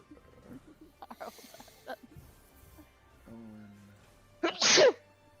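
A single loud sneeze bursts out near the end, following quiet murmured talk and a brief humming tone indoors.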